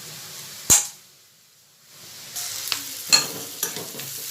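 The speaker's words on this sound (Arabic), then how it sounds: "صافي انا درت البصله ديالي كتسوطا" Onion frying in a pan, a soft sizzle with a sharp clack at the start, a brief quiet gap, then renewed sizzling with several scattered taps and pops, close and moderate.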